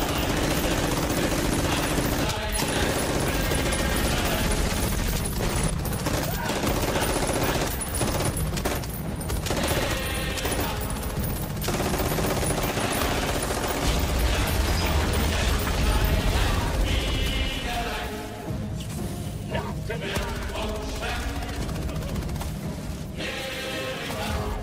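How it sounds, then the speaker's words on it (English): Machine gun fire from Helldivers 2 runs in long, dense automatic bursts with mechanical clatter, loud and close for nearly the whole stretch, easing slightly toward the end, with little speech. "how many of you have just learned the machine gun has different fire rates?"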